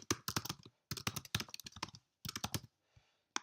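Someone types on a computer keyboard in quick bursts of close, crisp key clicks, with short pauses between runs and near-silence at the end.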